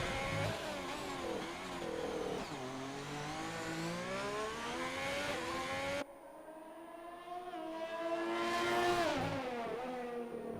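Race car engines roar and rev continuously at the Singapore Grand Prix in a racing video game, loud and dense with shifting pitch as cars pass, with no talk over them.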